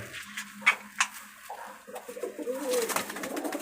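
Pet pigeons at a home loft in Rajshahi give soft, low cooing calls in short phrases amid quiet household sounds, with a few brighter chirps and light clatter.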